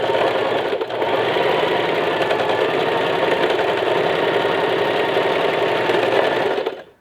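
A sewing machine backstitches at the start and end of each square while sewing a zippered pouch. Its close, steady motor whir runs almost without a break for about seven seconds and then stops. No one speaks.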